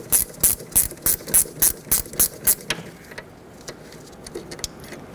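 A hand ratchet cranks loose the caliper slider pin bolts on a 2006–2012 Toyota RAV4's rear brakes: about eight loud, close, evenly paced clicking strokes, then a quieter pause with a few softer clicks.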